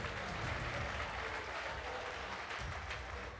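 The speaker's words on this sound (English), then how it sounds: "Clap for them." Sustained applause from an audience at a 2018 regional award ceremony in Kakamega, dense steady clapping filling the whole stretch at moderate distance.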